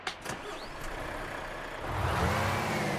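Truck engine starting up in Euro Truck Simulator 2 with a 725HP engine sound mod: a short crank and clatter, then a steady idle that swells louder and deeper toward the end.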